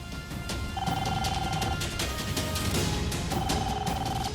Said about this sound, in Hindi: पुष्पा जी जल्दी जाइए, फोन उठाइए।